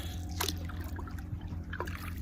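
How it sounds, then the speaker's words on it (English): Paddle strokes from a solo canoe on a low-water river, with quiet splashes and trickles around a couple of distinct dips, close and soft with no talk. "my first real paddle of the year in the solo canoe"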